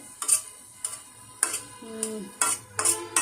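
A spoon stirs boiled papaya in thin sugar syrup, making close, distinct clinks and scrapes against the pot at an uneven rhythm of roughly six strokes, with no talking.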